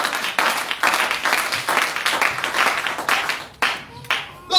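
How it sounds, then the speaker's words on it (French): Church congregation clapping during worship, rhythmic bursts of hand claps from many people in a reverberant hall, steady and fairly loud with brief pauses. "Clap for the Lord."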